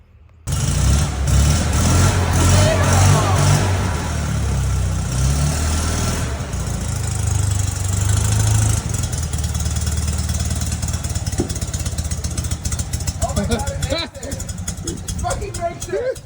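A 1970 Fiat 500 engine runs after a tune-up, a steady mid-pitched rumble close to the microphone for the whole stretch, with revs rising and falling and people talking over it.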